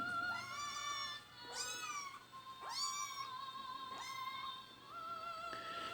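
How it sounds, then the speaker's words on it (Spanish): A kitten left asleep after the others had gone meows repeatedly, four or five thin rising-and-falling cries spaced about a second apart, close and fairly faint, with no voices. "aquí está un gatito que se quedó dormido aquí"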